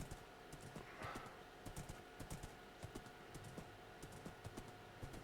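Horse hooves clip-clop in a steady, uneven patter of soft knocks, fairly faint, set in an outdoor scene among trees with a light background hiss.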